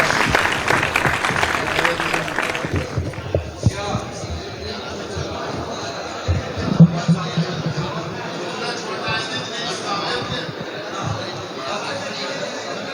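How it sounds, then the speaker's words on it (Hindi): A mushaira audience at Royal Garden claps loudly for a poet for about three seconds, then the applause gives way to murmuring crowd noise and scattered voices. "जोरदार तालियों से इस्तकबाल करें फेमस खतौलवी।"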